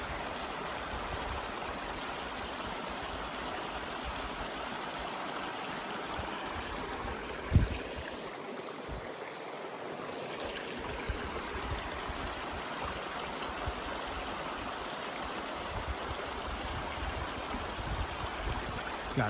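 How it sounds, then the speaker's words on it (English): Mountain brook on the Appalachian Trail in New Hampshire, rushing water close by with a continuous, full-bodied flow and a steady burble, heard alone for about twenty seconds apart from one brief thump midway. "I'll just give you guys 15 seconds of just the sound of this brook"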